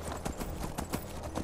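Horse hooves in the video game Skyrim VR, a quick, steady clip-clop of galloping strides on the ground, close and fairly loud, repeating evenly across a short burst with no talking.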